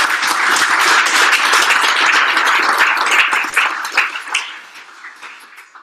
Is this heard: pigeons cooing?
no